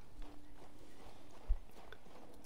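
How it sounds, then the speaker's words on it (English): A horse's hooves clop at a walking pace in the video game King's Bounty II, soft, muffled thuds with one heavier step, set against a low background hum. "Your horse cannot gallop."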